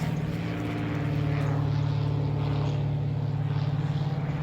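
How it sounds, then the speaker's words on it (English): A propeller airplane passes overhead above a garden in mid-October, producing a loud, steady drone with a rhythmic throb that stays constant from start to finish, with no talking. "there's a plane going over"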